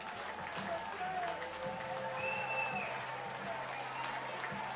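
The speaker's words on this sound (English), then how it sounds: "he's going to hear the applause from the Bosse Field crowd" A crowd applauds at a Bosse Field baseball game, with a soft, spread-out wash of clapping heard from a distance under a commentator's talk and a low background hum.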